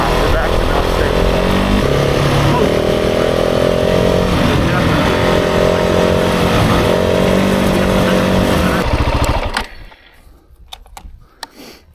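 A 2024 KTM 690 Enduro R motorcycle ridden through super deep gravel, its engine droning loud and steady up close for about nine seconds before cutting off, leaving faint scattered clicks.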